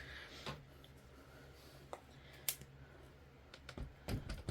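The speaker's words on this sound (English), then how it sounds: "press it down, lift, turn until I get the one click" A Sizzix Stamp and Spin stamping tool being pressed, lifted and turned, giving a handful of sharp, separate clicks and taps at uneven intervals, close and fairly quiet against a faint room hum.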